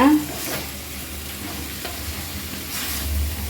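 Fish curry base frying in a pan while being stirred, with a steady loud sizzle and scraping stirs throughout, no talking.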